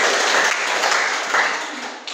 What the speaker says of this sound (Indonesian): Silakan tepuk tangan kawan kita.